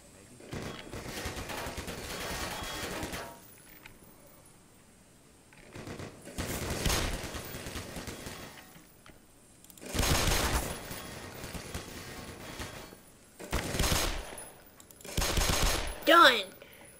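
Bursts of gunfire shooting at a turret in the game Black Mesa, coming as several loud rapid volleys spaced by short pauses.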